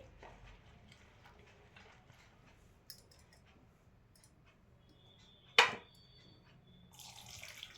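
Water trickles into a bowl of freshly pressed herbal juice for a homemade multipurpose wash: a soft, faint pouring and dripping, with one sharp clink midway and a brief splash near the end.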